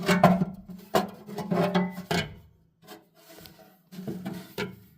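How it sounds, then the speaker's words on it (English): A metal bottom access cover refitted onto a Harman 52i pellet insert, with several close scraping, rubbing knocks and clatters in uneven bursts and short pauses between them. "So we'll take the bottom access cover. We'll put it in."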